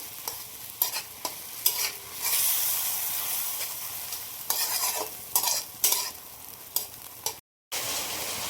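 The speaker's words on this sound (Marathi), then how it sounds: "ही पण छान परतून घेऊया मी गॅसची फ्लेम वाढवलेली आहे आता" Peas and paneer sautéing in a pan over a high gas flame, a loud steady sizzle and hiss broken by repeated stirring scrapes, with a brief dropout near the end.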